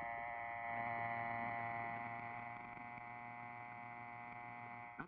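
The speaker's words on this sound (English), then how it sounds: "That's the dial tone." Old rotary telephone dial tone, a steady humming buzz with stacked harmonics held evenly throughout, fairly quiet with no speech over it.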